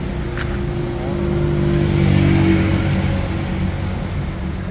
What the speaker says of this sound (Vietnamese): Anh em lên cho anh em mình xem con động cơ ha